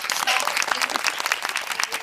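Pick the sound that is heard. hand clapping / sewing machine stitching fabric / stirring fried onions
hand clapping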